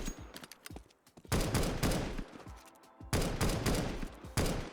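Loud bursts of G3 SG1 sniper rifle fire in Counter-Strike 2, with several sharp shots and rattling volleys coming in rapid clusters separated by brief pauses, all close and forceful.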